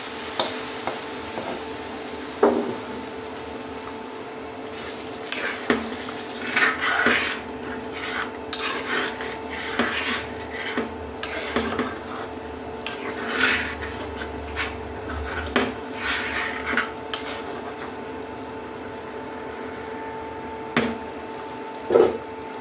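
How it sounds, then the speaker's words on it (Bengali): Hot tempering of fried chillies is poured into cooking goat meat for haleem, with a soft sizzle, scraping stirs and clinks of a metal pot and spoon scattered through a quiet kitchen. "আমি বাগারটা মাংসের ভিতরে ঢেলে দেবো।"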